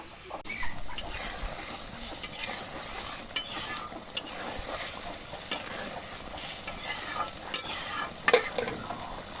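Spices and chili powder sizzle and fry in a pan for a goat meat curry, with steady scraping stirs running throughout, close and continuous.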